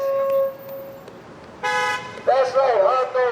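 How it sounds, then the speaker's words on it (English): Car horns honk at a street protest march, a long steady toot followed by several overlapping honks with a warbling tone, loud and close amid crowd noise. "honk those horns"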